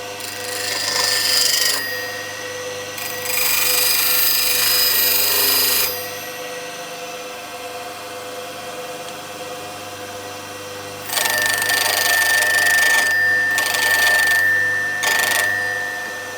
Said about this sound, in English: Let's go to the grinder.